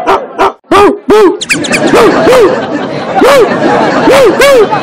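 A person's voice imitates a dog, giving a string of loud, close bark-like yelps while other people chatter around them.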